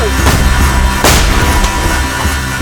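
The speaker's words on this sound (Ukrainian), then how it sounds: "Постріл!" A sharp, loud gunshot cracks out amid dense, noisy background rumble, with a few fainter thuds around it.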